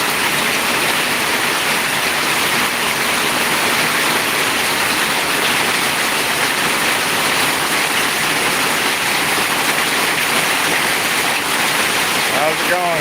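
Heavy rain pours off a roof onto a patio in a dense, loud, unbroken rushing and splashing roar that holds steady for the whole stretch.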